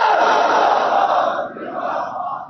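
A crowd at a Khatm-e-Nabuwat conference at Golra Sharif chants the slogan "Tajdar-e-Khatm-e-Nabuwat" in loud unison, a dense roaring shout that holds steady, dips briefly, then swells again.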